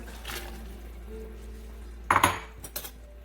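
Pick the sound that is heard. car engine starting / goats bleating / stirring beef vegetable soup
stirring beef vegetable soup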